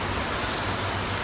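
Steady rain pours during a rainstorm in Dubai, a dense even hiss of drops on surfaces, close and continuous with no voices.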